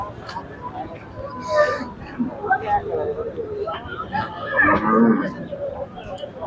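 Bulls moo and low repeatedly, close by, while people talk and murmur around them in a busy outdoor crowd at a cattle market.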